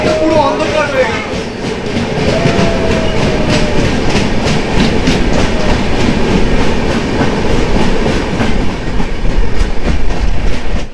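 The Kanchan Kanya Express rolls loudly through a tunnel and hill country, a dense rumble with rhythmic wheel clatter on the rails and faint squeals, heard from inside a carriage with scattered voices.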